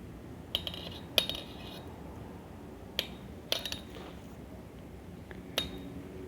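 Knitting needles clicking while a baby frock is knitted, several sharp isolated metallic clicks spaced irregularly over a quiet background.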